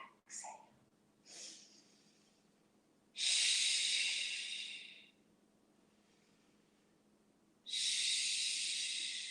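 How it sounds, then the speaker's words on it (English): Deep yoga breathing: a couple of short sniffs, then two long, loud breaths drawn close to the microphone with a quiet pause between them. "Inhale and exhale."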